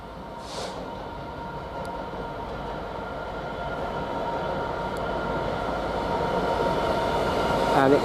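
A GBRf Class 66 diesel freight train rolls past a station, a steady rumbling roar of wagons that slowly grows louder, with a few faint clicks and a brief squeal near the end.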